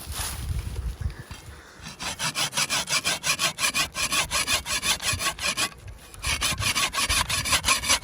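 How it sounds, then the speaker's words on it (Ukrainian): A hand saw cuts through a tree trunk at its maximum cutting diameter, with steady, rhythmic back-and-forth strokes rasping close and loud, a brief pause near the middle and no talk. "Ну, пилка ріже нормально, просто немає тут якоїсь гілки меншої, щоб обрізати."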